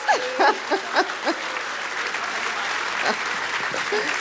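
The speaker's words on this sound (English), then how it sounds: "Give a big round of applause." Applause from a crowd at a real estate conference, broken up by a voice talking over the clapping at the start, then steady clapping carrying on to the end.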